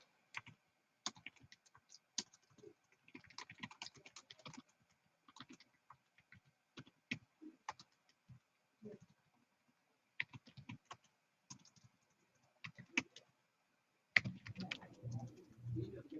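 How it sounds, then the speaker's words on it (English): Bursts of keyboard typing, quick clicky keystrokes in short runs separated by pauses, close and fairly quiet, followed by a brief rustle at the end. "I'm typing my answer right now."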